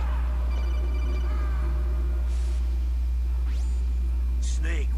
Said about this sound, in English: So I'm gonna get a few phone calls. Well, codec calls.